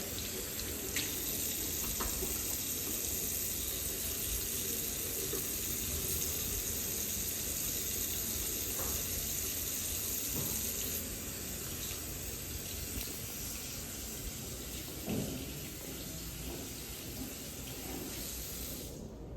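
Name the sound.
tap water running, hand washing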